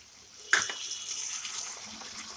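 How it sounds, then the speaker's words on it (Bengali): Water used to rinse a bowl splashes into a cooking pan in one short, close pour that starts abruptly and then trails off into a steady gush. "এই বাটি ধোয়া জলটাও দিয়ে দিলাম।"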